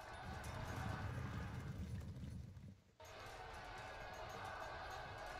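Cavalry horses gallop in the Pike and Shot strategy game, a dense, steady rumble of hooves that dips briefly mid-clip before carrying on at full strength.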